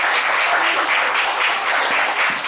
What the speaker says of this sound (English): a round of applause for Claire's band as well